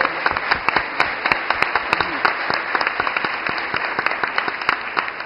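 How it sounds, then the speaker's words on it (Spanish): Audience members at a forum with deputies applaud the moderator, a crisp, fairly close round of clapping with individual hand claps distinct over a steady bed, lasting about five seconds. "Un aplauso para él, por favor."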